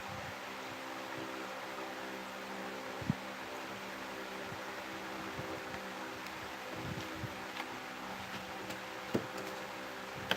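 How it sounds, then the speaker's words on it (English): A running microwave oven drones with a steady hum and faint mechanical whir, with a few small clicks and taps scattered over it. "Now I'm going to put the mold in the microwave real quick."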